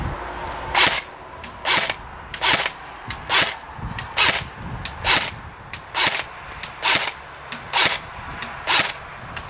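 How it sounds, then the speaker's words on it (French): An airsoft M4 fires BBs that strike a shield with sharp, evenly spaced pings and clacks, about fifteen single hits in a steady rhythm, close and loud. "j'espère que vous allez quand même pouvoir entendre les ting-ting sur mon bouclier"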